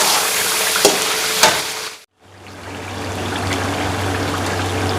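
Chicken karahi sizzles and fries in a large amount of oil, a loud, steady crackling hiss with a few stirring clatters, then a brief silence before the frying resumes over a low hum.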